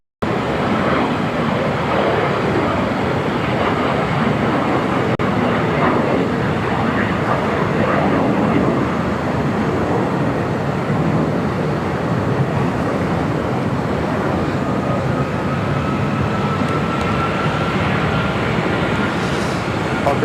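Airliner on the runway at Los Angeles LAX, with a steady, loud jet engine roar sustained throughout and a faint rising whine late on, while people talk underneath.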